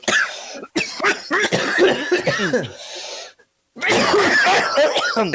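Podcast hosts cough repeatedly in close, loud bursts, several harsh hacking coughs in quick succession with a short pause before more coughing resumes.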